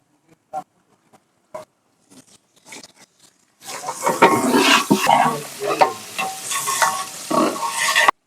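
Cauliflower, carrot and capsicum hit a hot pan with a sudden loud sizzle, after a few seconds of quiet clinks and taps, then keep frying with a steady hiss and scraping stirs, close up and without talk.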